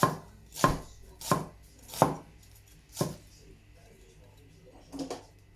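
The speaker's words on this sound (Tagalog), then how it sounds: "Maghihiwa na rin tayo ng sibuyas." Knife chopping onion on a board, six separate thuds at uneven intervals, close and fairly crisp, with quiet room noise between the cuts.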